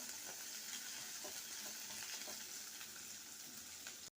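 Onion with ginger and garlic frying in a pan, a soft steady sizzle with faint stirring crackles, ending abruptly.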